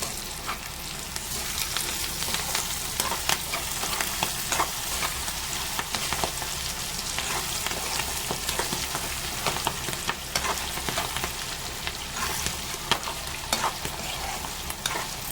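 Ingredients for pulihora frying in a pan with salt and turmeric, a continuous close sizzle with frequent small pops and stirring scrapes, unbroken by speech.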